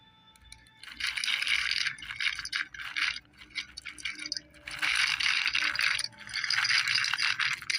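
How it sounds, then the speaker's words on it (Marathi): Crispy homemade cherry tomato kurkure snack crunching up close in repeated loud bursts, with brief pauses between bites or handfuls; no talking. "आवाज पण तुम्ही याचा बघू शकता किती क्रिस्पी होतोय."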